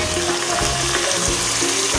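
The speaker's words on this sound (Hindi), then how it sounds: "अब हम इसमें टमाटर ऐड करेंगे।" Tomatoes hit a pan of frying potatoes, giving a steady, loud wet sizzle with crackling throughout and no voices.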